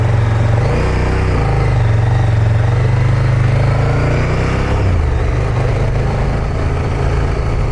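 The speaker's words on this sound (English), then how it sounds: "this bike sounds just awesome." A KTM 1290 Super Duke GT motorcycle engine drones steadily up close while riding, its pitch shifting up and down as the rider works through the revs, loud and continuous throughout.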